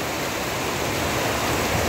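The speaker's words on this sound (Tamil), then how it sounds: "பெங்களூரில் இப்போ நல்லா மழை பெய்யுது பாருங்க, எவ்வளோ மழை பெய்யுதுன்னு, எவ்வளோ தண்ணி போகுது." Heavy rain pouring down in Ramamurthy Nagar, Bengaluru, a dense, steady, loud hiss of rainfall with no breaks.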